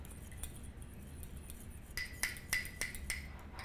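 Egg and olive oil mixture whisked in a bowl, a steady run of quick metallic clinks of utensil against the side, faint at first, then sharper and more regular.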